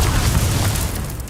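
A Confringo spell explosion in the video game Hogwarts Legacy: a loud, deep boom that rumbles on steadily for about a second with no talk over it.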